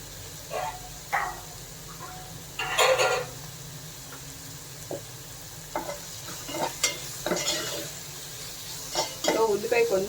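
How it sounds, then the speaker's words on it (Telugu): Onions frying in a pan for a tamarind lentil-dumpling curry, stirred in short bursts of scraping and sizzle that come and go over a low steady background. "ఉల్లిపాయలు వేగిపోయినాయండి"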